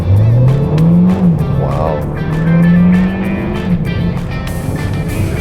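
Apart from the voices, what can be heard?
Mercedes-Benz A200 sedan accelerating hard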